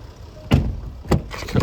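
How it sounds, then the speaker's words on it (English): The power tailgate of a 2016 Range Rover Sport operates with a motor whir and mechanical clunks, three distinct thuds as the boot moves and latches, close by. "So power boot, as you would expect on a car of this calibre."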